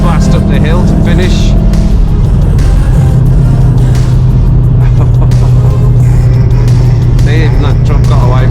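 A VW Golf R MK7.5 with 306 hp accelerates hard up a hill, its loud engine drone rising and steady throughout, heard from inside the car.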